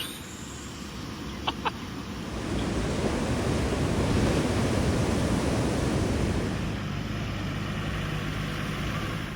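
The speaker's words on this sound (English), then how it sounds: "the waves here are awesome today" Surf breaks and rushes steadily on a black sand beach on Hiva Oa, a broad roaring wash heard fairly close, with wind noise over it. Two faint brief chirps come early on, and there is no talk.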